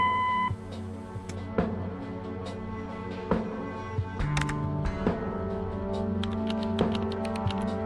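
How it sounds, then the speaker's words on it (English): An answering machine beep in the 2021 point-and-click game Kathy Rain: Director's Cut: a short, steady electronic tone at the very start, then cuts off, leaving soft game ambience with scattered clicks. "Leave a message after the beep."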